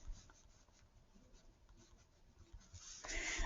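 A pen or pencil scratching out a math equation by hand, soft continuous scraping strokes that are quiet at first and then grow louder and busier near the end.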